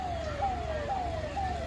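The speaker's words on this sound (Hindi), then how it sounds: "ये भी देखिए पुलिस की गाड़ी आ रही है आज।" Police car siren in Ayodhya during street preparations, a steady repeating wail cycling every half second or so over a low rumble of road traffic, moderately distant and unbroken by talk.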